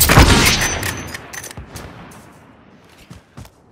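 Gunfire in a video game, a burst of loud shots at the start with a few scattered single cracks trailing off into quieter moments.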